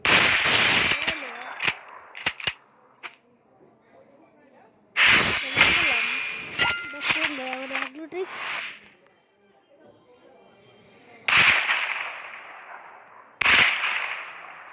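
Gunfire in a Lone Wolf mobile shooter game comes as loud, sharp single shots and short bursts, scattered in clusters across the stretch, with someone talking excitedly between and over them.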